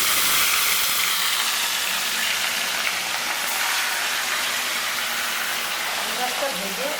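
Fish frying in hot oil, a loud, dense hiss and sizzle filling the whole stretch at an even level, close by, with no voices over it.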